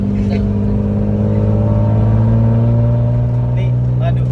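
A 1996 BMW E36 323i drift car with a large exhaust idles and revs close by, a loud steady engine drone filling the whole clip, with voices talking over it.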